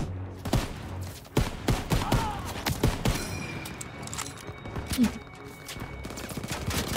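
Gunfire in the Call of Duty WWII campaign, scattered sharp shots and volleys at moderate loudness over a busy battle background.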